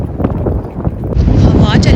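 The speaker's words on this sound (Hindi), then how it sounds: "हवा चलनी शुरू हो गई है" Wind gusts across the microphone outdoors with a loud, rough buffeting roar that rises and grows steadier toward the end, and no speech over it.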